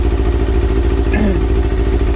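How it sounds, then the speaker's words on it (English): A Kawasaki ZX6R J2 engine idles close by while warming up, a steady low mechanical burble with light clatter and one faint brief whine in the middle. "We have to let the engine warm up, so we're at 55 at the moment."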